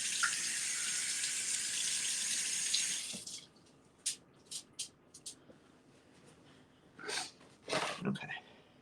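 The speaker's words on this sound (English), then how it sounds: "Always wash your tomatoes or any produce." Tomatoes are washed under a running kitchen tap, a steady loud hiss of water that stops after a few seconds, followed by soft, sporadic handling and splash sounds.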